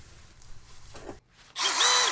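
A power tool tightens a fill plug on a RAM 1500 front axle: a low rattle under a short whine, a brief pause, then a loud high-pitched drill whirr that rises and falls over the final second.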